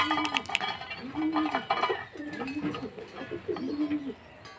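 Pigeons coo close by in repeated, rolling phrases while being fed grain, with fainter higher bird chirps scattered in the background.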